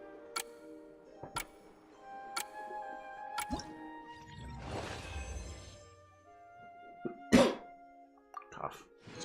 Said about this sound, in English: I'm gonna keep coughing.